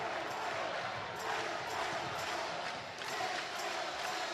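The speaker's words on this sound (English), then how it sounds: "Crowd trying to urge on the home team here." A crowd at a men's college volleyball match between Pepperdine and Hawai'i roars steadily to urge on the home team, a dense, sustained wash of cheering and voices with slight swells.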